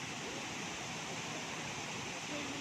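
The Tala River in Bailen, Cavite flows in a steady, even rush of water, a continuous hiss without pauses, faint to moderate and heard alone.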